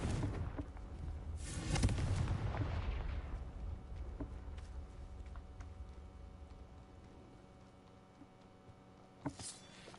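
A Confringo fire spell is cast in the Hogwarts Legacy video game, a single deep booming blast that rumbles and fades over a few seconds, followed by a quiet stretch and a brief sharp crack at the end.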